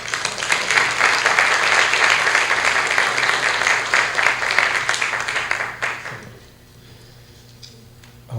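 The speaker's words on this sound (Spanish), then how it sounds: "con un fuerte voto de aplausos" Audience applause fills a law seminar hall, dense and steady clapping for about six seconds before dying away into a quiet room, with a faint stir at the very end.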